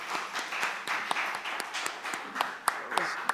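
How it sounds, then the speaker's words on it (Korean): A church congregation gives encouraging applause during a service, a fairly quiet scatter of claps with a few sharper individual claps standing out near the end. "격려 박수 해주셨습니다"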